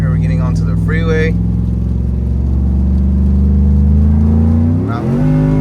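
An E85-tuned Chevrolet Tahoe pulls hard at full throttle onto a freeway, its engine droning loud and steady with a rising pitch and a brief shift dip near the end, while someone talks excitedly over it.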